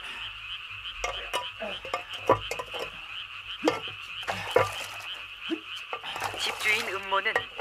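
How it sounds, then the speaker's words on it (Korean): Frogs in a pond croak in rapid, overlapping bursts, loud and near, with a steady chorus throughout and a voice speaking faintly underneath. "개구리 소리가 시끄러워 잠을 잘 수가 없다 하지 않았느냐?"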